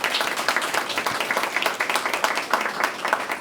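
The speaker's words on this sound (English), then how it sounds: "I want to give a huge round of applause to our panelists today." Brief, busy clapping from an audience thanking panelists at a business panel on growth through acquisition, close, dense and uneven hand claps throughout.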